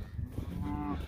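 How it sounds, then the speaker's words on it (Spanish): Recently weaned calves, just moved out of a muddy corral, bellow in a loud, drawn-out moo over the low murmur of the herd outdoors. "Son becerros que acabamos de sacar del corral porque ve mucho lodo"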